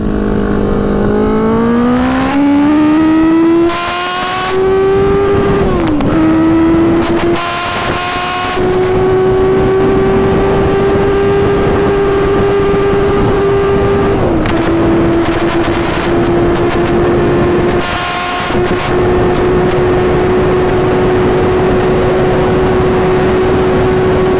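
A 100 HP Yamaha Banshee quad holds a loud, sustained high engine drone that shifts pitch a few times as the back wheel spins out, with no talking over it.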